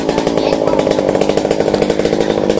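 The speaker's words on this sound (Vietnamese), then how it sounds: "hỗ trợ cưa mấy cây bạch đàn" Chainsaw cutting down a large eucalyptus tree in a cramped spot in Cái Bè, Tiền Giang, Vietnam: a loud, steady, close buzzing engine whine that runs without a break for under three seconds.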